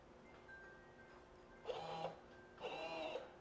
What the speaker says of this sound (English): The up button should push this piston out.